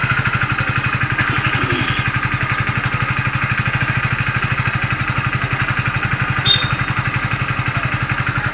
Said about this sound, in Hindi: हम यहाँ पे सेल्फ दबाएंगे और गाड़ी की चाल देख सकते हैं